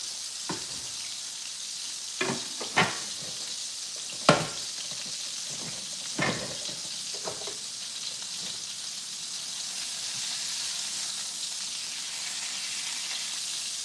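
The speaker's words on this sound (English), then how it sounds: "I'm gonna boil mine because I want to make sure they all the way done" Frozen peas and carrots boil in a pot on a home stove, giving a steady sizzling, bubbling hiss with a few sharp clinks scattered through the first half and no talking.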